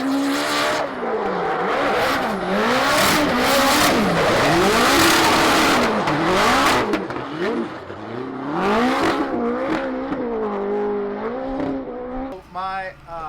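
A 1,000 WHP Papadakis Racing Toyota Corolla on a race track, its engine revving up and down in loud, continuous waves of acceleration and lifting, with a brief burst of rapid higher-pitched engine chatter near the end.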